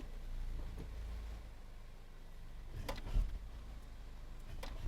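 A moving Toyota Corolla with worn control arm bushings gives a low, steady rumble, broken near the middle by a couple of short, faint clunks.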